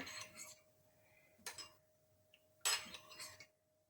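A spoon stirs rose water paste in a bowl, giving a few sharp, quiet clinks against the bowl spaced between softer scraping, heard close up.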